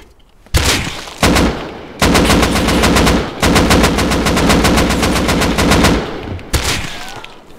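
Rapid video-game gunfire, loud and close: a short opening shot, then long sustained automatic bursts with brief gaps between, ending with a final burst.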